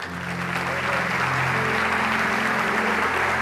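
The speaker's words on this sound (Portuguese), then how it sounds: "Alguém pode dar um aplauso ao Senhor?" A church congregation bursts into sustained, dense applause that fills the room evenly for several seconds, loud and continuous throughout.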